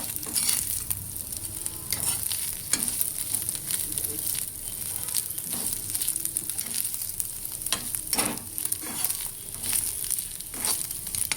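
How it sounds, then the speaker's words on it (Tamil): Crispy anchovy dry fish deep frying in hot oil: a steady, loud, close bubbling sizzle throughout, with intermittent scraping stirs of a spatula in the pan and no talk. "இது போல் நல்லா ஃப்ரை பண்ணுங்கள்."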